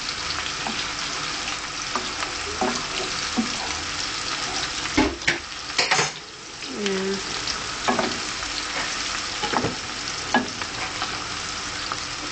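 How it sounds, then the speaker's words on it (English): Onions frying in vegetable oil for a spinach stew, a steady sizzle with intermittent scraping stirs and clanks from the pan, close and alone without talk. "So just continue to stir the onions in the oil."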